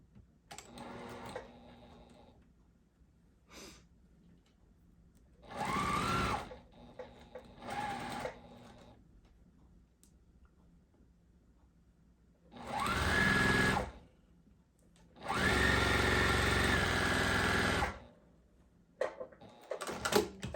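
A sewing machine stitches a quilt block in several bursts, some short and some lasting a few seconds, with quiet pauses between them. The motor whirs close and loud, with no talking.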